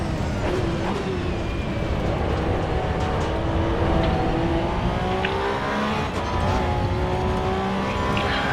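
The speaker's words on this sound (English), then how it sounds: "Right now we were sliding a little bit because of the cold tires" A Porsche 911 on cold tires slides around Bathurst in Assetto Corsa EVO, its engine howling continuously with rising and falling revs while a hiss of tire scrub runs underneath, loud and close throughout.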